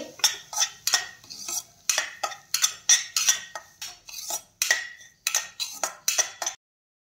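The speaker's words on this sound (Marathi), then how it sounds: "रवा छान आपल्याला मंद आचेवरती तुपामध्ये छान भाजून घ्यायचा आहे।" Semolina roasting in ghee in a pan is stirred with a metal spoon, giving a run of sharp scraping and clinking strokes in quick irregular rhythm, close and fairly quiet, ending abruptly.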